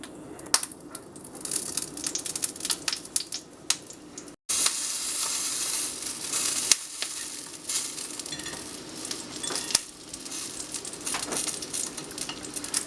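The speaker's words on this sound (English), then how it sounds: "you just get your pan really hot and you throw your shishitos in, and they start to basically sear" Shishito peppers sear in a very hot pan with a bright, continuous sizzle and a few clinks and crackles, briefly cut off once before resuming at full strength.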